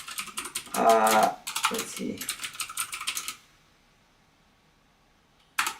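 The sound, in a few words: typing on a computer keyboard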